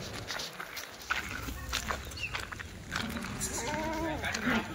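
Kathewadi goats bleating in a livestock yard, a few nasal calls rising over shuffling hooves and background chatter, moderately close.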